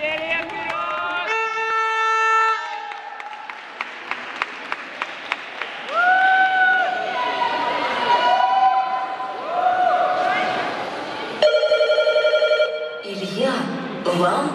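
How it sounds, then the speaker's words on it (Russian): Telephone ringing during a team competition: loud tonal ringtone-like tones and repeated electronic rings sounding over crowd noise and applause across the stretch, with steady chatter in the background. "вам кто-то звонит"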